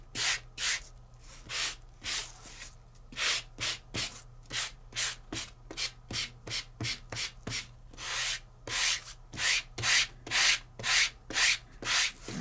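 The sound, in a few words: hand sanding embossed color core paper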